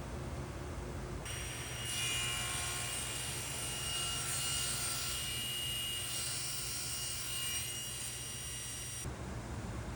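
A saw cuts steadily through a wood board clamped to a sled fence, a continuous whining roar that starts abruptly, holds for several seconds and stops, heard alone at moderate distance.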